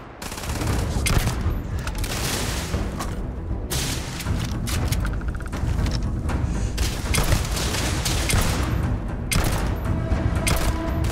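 Sustained heavy gunfire in the space game Starfield: rapid, dense bursts of shots that run almost without pause across the whole stretch. The shots are loud, close and layered with booming impacts.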